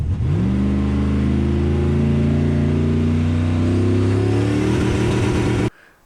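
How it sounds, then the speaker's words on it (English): An LS-swapped Mustang's V8 is held at full throttle against the torque converter, a loud, steady, building roar that climbs slightly in pitch for about five seconds before cutting off abruptly into near silence. "you go full throttle with the engine, it loads up the torque converter"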